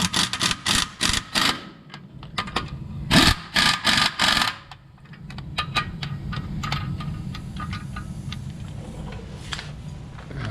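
An impact wrench tightens lug nuts on an '85 Chevy in two clusters of short, rapid hammering bursts, followed by a low, steady rumble for the rest of the clip.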